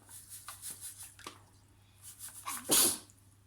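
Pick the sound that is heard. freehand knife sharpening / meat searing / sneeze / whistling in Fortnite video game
sneeze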